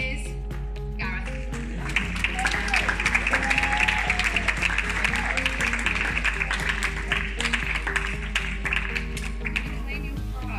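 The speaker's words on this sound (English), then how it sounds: "Round of applause." An outdoor crowd at a Swansea summer school prize announcement on Bay Campus gives a round of applause, dense rapid clapping lasting several seconds over a steady low hum, with some voices in the mix.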